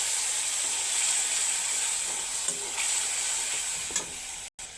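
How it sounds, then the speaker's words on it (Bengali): Black cumin and spices fry in hot oil in a kadai for a fish tomato curry, giving a steady close sizzle with a few faint clinks of stirring. "মশলা এখন এবার ভাজা হোক"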